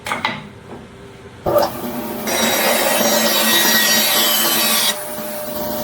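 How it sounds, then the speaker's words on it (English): Saw cutting a walnut taper off a cherry end grain cutting board, a loud close, sustained rasping cut of a few seconds after a couple of short knocks. "we've cut all of that walnut taper off right down to the cherry"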